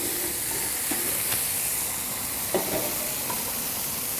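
Wagyu burgers searing on a flat griddle, a steady close hiss of frying fat that holds at an even level throughout, with a few faint clinks and scrapes underneath.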